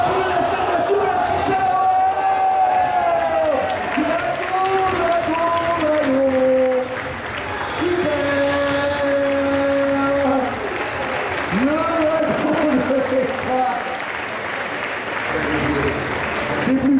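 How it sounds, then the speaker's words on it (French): Crowd at a Street Fighter V 2v2 team tournament finals applauding and cheering steadily for the whole stretch, dense and loud, with an announcer speaking French over the noise. "On peut les applaudir quand même à Kaido et Buster Evans"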